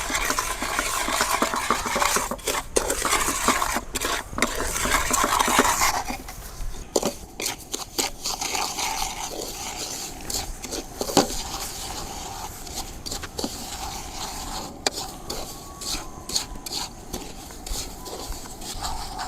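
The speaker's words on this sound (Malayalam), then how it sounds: "അപ്പോൾ നമ്മളിത് കരിയാണ്ടൊന്ന് സൂക്ഷിച്ചിട്ടൊക്കെ ഇളക്കണം" A cup of sugar is stirred in a pan on the stove for caramel, a steady rapid scraping and rustling that keeps going throughout, close up with frequent small knocks of the spoon against the pan, no speech.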